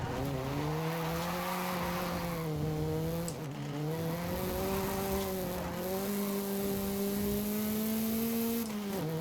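In Forza Horizon 5, a car drifting with a tapped handbrake gives a sustained tire squeal over a droning engine, pitch dipping and rising as it slides, loud and close.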